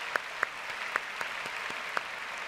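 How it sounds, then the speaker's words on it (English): Scattered claps at a 2015 high school graduation ceremony, a few sharp distinct hand claps spaced apart over faint background room noise. "Let's give them a round of applause, please."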